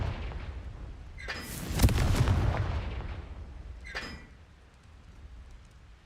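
Confringo blasting spell cast in Hogwarts Legacy, two sharp explosive bursts a couple of seconds apart, the first a loud booming crack with a lingering rumble, the second a quicker, lighter blast, over a low ambient bed.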